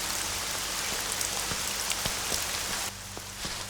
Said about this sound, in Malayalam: ആ മഴയല്ലേ,